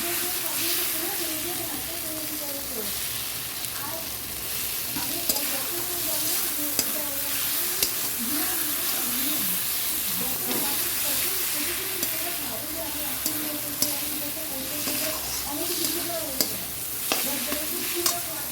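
Tomato frying in a pan, a steady close sizzle and hiss under repeated scraping strokes of a stirring spoon, with a voice talking over it.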